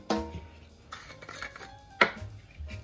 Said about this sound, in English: we are just going to put those in some hot soapy water, and we are going to scrub them up.